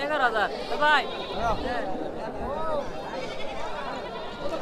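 Several goats bleat close by in wavering, repeated cries over a busy crowd murmur and chatter of a crowded livestock market at Satpakhiya ferry ghat, Sherpur.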